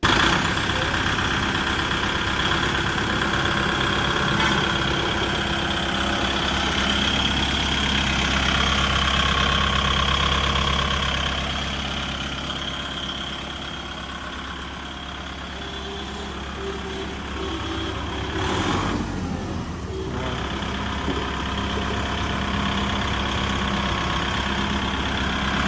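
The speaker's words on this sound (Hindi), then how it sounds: "अभी मैं आपको ट्रैक्टर चलते मैं टर्निंग रेडियस बताऊंगा कि ये कितना टर्न हो सकता है।" Kubota MU5502 tractor engine running steadily while turning, a continuous mid-pitched diesel drone with a slight dip and swell in loudness partway through, heard nearby.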